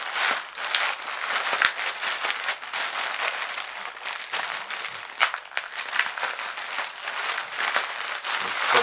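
A soft AliExpress parcel is unpacked by hand, its plastic packaging crinkling and crackling continuously at close range with irregular sharper rustles.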